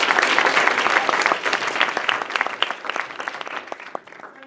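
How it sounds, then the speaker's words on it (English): Audience applause at an afternoon pitch competition awards event, a dense burst of many hands clapping that starts loud and gradually thins and fades toward the end, with no talk over it. "Can we get a round of applause?"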